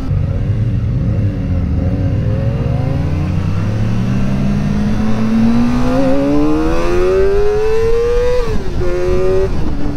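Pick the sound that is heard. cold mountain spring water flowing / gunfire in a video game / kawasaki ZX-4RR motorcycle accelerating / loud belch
kawasaki ZX-4RR motorcycle accelerating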